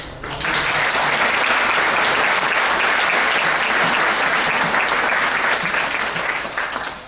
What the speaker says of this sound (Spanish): le ruego, recibamos con un aplauso